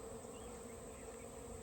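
Honey bees buzz steadily around an active hive, a dense, continuous drone of many wings without pause, fairly close and faint overall, with no talking.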